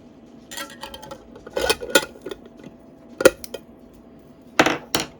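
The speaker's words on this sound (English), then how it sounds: "I'm going to add my lid." A lid being set onto a pot of homemade golden syrup, several clattering metal clinks and knocks in short clusters, close and fairly loud against a quiet room.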